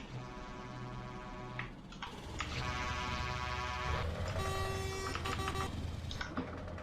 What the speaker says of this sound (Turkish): Bir de havalı kornası var.